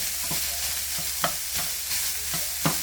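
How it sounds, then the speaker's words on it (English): Chopped onions frying with browned hamburger meat in a pan, giving a steady close sizzle broken by several scraping stirs of a spatula at roughly even intervals. "I'm going to go ahead and add my onions in"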